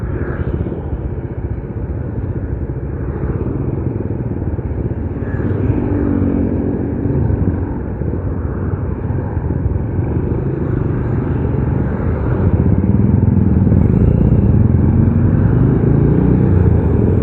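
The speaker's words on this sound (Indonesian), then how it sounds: "naik motornya pada ngebut-ngebut ini" Motorcycles roar along a road on the way to a mountain campsite near Bogor, a loud, continuous engine rumble that swells toward the end as riders speed by.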